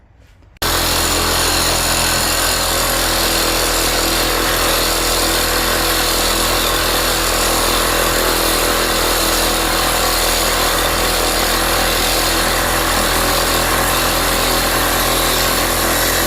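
A reciprocating saw cuts through steel pipe at home without a clamp, starting abruptly after a brief quiet and then running as a loud, steady, harsh buzzing rasp that continues unbroken to the end, with no voices.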